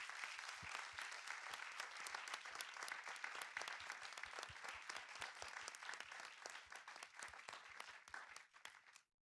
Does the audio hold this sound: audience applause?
yes